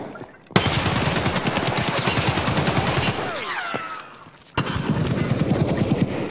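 Close, loud automatic rifle fire in the video game Escape From Tarkov, a long rapid burst that tails off, a short pause with whistling ricochet-like tones, then another sustained burst.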